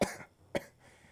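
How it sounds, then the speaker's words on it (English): Two short, close coughs about half a second apart, the first harsher than the second, with no talking. "I still have somewhat of a cough"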